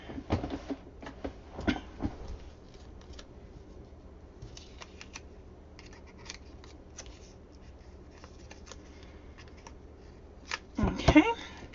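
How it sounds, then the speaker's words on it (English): Foam tape being pulled and handled at a card-making desk, with crinkly rustles and small taps near the start and a louder flurry of peeling and rustling at the end, close and fairly quiet. "let me pull out some more foam tape"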